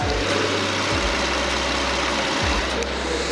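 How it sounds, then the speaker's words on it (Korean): Gasoline car engine idling with the hood open, a steady low rumble close to the microphone with faint mechanical whir and no voices over it. "자, 제가 엔진 소음을 담기 위해 본네트를 한번 열어봤는데요."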